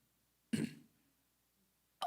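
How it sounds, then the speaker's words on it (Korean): A single short throat-clearing cough rises sharply out of near silence and fades over about a quarter second, with a brief sound starting again at the very end. "저도 기침을 자주 합니다."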